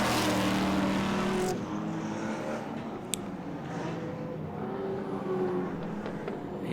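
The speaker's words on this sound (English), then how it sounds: "And here we've got the Moffat Mustang again." A Mustang race car roars past on a race circuit, its engine loud at first then fading into the distance, followed by the drone of another car further off.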